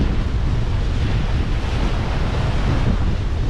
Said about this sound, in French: Attention à cette rafale, celle-là elle est mauvaise.